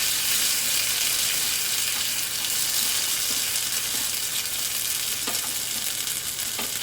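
Ginger-chili paste with fenugreek seeds, cumin, dried chilies and cloves fries in hot ghee for pulao kadhi, a steady close sizzle with faint stirring clicks and no talk.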